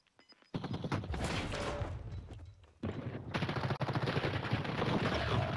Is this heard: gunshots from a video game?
yes